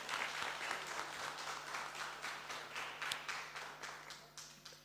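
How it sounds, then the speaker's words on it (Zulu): Audience at a spring picnic media briefing claps steadily, a fairly quiet, continuous patter of many hands that keeps up the whole time without voices. "Ngiyabonga Mpungose ngicela simshayile ihlombe."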